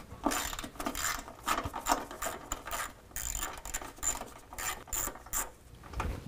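A ratchet with a 10mm socket works loose exhaust mount bolts from a vehicle frame, giving close, rhythmic bursts of rapid clicking with brief pauses between strokes; no one speaks.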